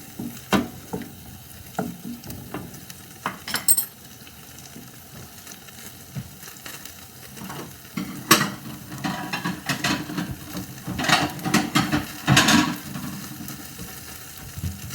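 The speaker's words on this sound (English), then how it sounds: "I'm going to let that simmer for a little while longer" Chicken stir-fry in brown sauce bubbling in a pan, with a low simmering hiss broken by several sharp spatula clinks and scrapes, louder toward the end; no talking.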